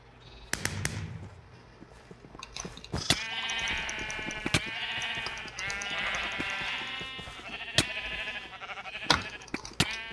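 Video game Sheep Quest sheep bleat repeatedly in overlapping, wavering calls at close range, punctuated by sharp clicks and thumps of game effects, moderately loud with no speech.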